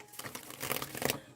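A tarot deck being shuffled by hand, heard as a quick, close run of papery riffling and crinkling bursts lasting just over a second.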